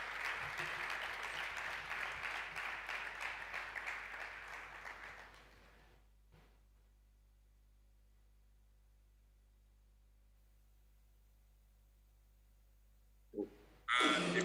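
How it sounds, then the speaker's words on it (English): An audience claps for a keynote speaker at the AfriLabs Annual Gathering, a dense burst of applause lasting about five seconds before fading into near silence, with a brief noise near the end. "Give him a round of applause."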